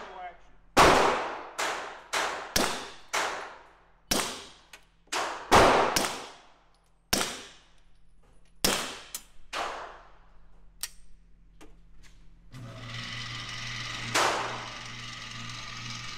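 A Beretta M9A4 pistol fitted with a Silencer Co. Omega 9k suppressor fires a string of sharp, loud shots outdoors at the range, first in quick succession and then more spaced out, followed by talk near the end.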